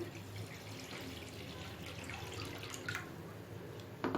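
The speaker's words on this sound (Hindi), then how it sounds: "सबसे पहले मैं एक पैन में 2 से 3 गिलास पानी लूँगी" Two to three glasses of water running and splashing into a pan for boiling pasta, a soft steady pour with a brief louder clatter at the very end.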